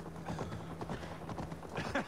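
Horse hooves in Assassin's Creed Valhalla clip-clop in a quick galloping rhythm under a murky background, with a faint voice near the end.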